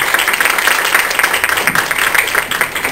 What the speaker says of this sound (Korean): 뜨거운 환호 정말 감사드리고요